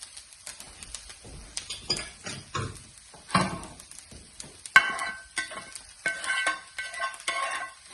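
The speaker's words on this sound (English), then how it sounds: "Just added the eggs in here. This, and then you can just mix it." Eggs poured into a hot pan of mushrooms and stirred, giving a soft sizzle with scraping and clinking of a utensil in irregular bursts, close and fairly quiet.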